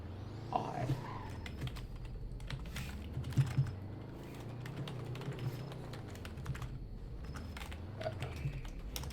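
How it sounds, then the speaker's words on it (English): Soft, irregular clicking of keys on a quiet computer keyboard, typed steadily over a low background hum. "I switched keyboards, so it's a quieter keyboard"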